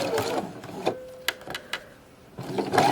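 Home sewing machine stitching fabric piping tight against the cord at stitch length 2, a close, soft mechanical whir in short bursts with brief pauses and small clicks between runs.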